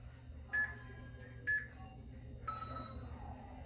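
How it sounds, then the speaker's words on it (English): An exercise timer beeps three times, short electronic tones at roughly one-second intervals, faint and alone over a quiet room background. "I'm just gonna turn off our timer so it stops beeping at us"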